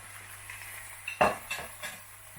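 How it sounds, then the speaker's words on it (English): Cooked bacon tipped back into a pan with liver, a few clattering scrapes and knocks of utensil against pan over a faint background sizzle, quiet and close. "now I'm going to add my bacon back in"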